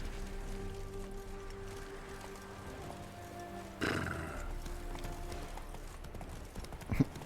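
Horse hooves clip-clop steadily in The Witcher 3 video game, with a brief whinny-like burst midway, over a low game soundtrack hum.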